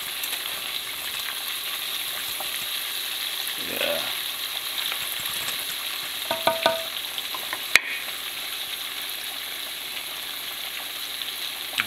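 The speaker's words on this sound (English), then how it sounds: "we're gonna let that fry." Buttermilk-marinated chicken pieces frying in grease heated to about 375 degrees, giving a steady soft sizzle and crackle throughout, with a few faint clinks and a brief spoken remark.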